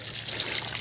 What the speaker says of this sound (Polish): Tutaj mam 8 litrów wody i całe te 8 litrów wody